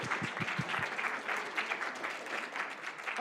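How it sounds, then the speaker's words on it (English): An audience at a university machine-learning club showcase applauds the event organizers and engineering team, opening with a few close, distinct claps before settling into a steady, even wash of applause. "could you give a big round of applause to Rachel and the different directors of the engineering team for doing such a great job organizing this event?"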